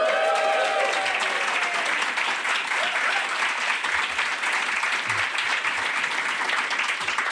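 Sustained applause from a live podcast audience at the first ever live Serious Inquiries Only recording, a dense steady wash of many hands clapping, loud and even throughout with no talk over it.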